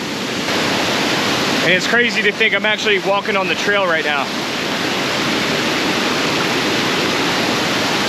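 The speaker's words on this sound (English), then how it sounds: "I think it's just the way the water's rushing through these rocks." Steady, loud roar of a waterfall rushing over rocks at Little Devils Stairs in Shenandoah fills the whole stretch, echoing off the rocks, with a person speaking briefly over it.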